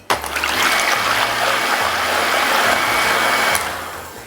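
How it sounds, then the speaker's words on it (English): Electric hand mixer beating egg whites at high speed in a clean bowl for a durian Swiss roll, a loud continuous whirring buzz with whisking hiss that runs steadily, then cuts off near the end. "I'm gonna whip these egg whites first"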